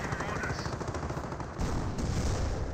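Rapid bursts of gunfire and tank fire from a Panzer 4 in the Company of Heroes World War II strategy game, a dense, crackling volley that runs continuously and fairly loud.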